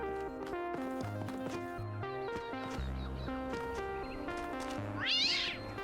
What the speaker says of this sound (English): It's just a very startling cat.